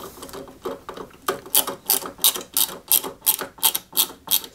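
Screws are driven into the front wings of a 1/8-scale Citroën 2CV AZLP model with a small ratcheting screwdriver, making a rapid, regular run of crisp clicks close by, with no speech.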